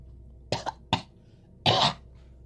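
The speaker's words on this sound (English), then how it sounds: "Water is just coming out of his mouth as he coughs it up." A man coughs and splutters close by: two quick harsh coughs, a pause, then a longer rasping cough.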